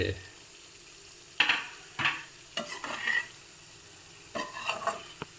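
A spoon stirs boiled potatoes into a masala curry gravy in a pan for a potato and pea curry, giving close, intermittent scraping and sloshing strokes separated by short pauses.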